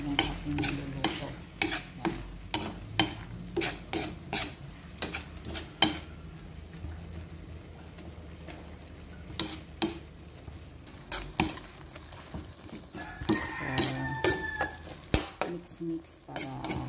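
Meat simmering in a pot with a little broth is stirred in repeated scraping strokes over a low bubbling sizzle, the clatter loud and close with brief pauses.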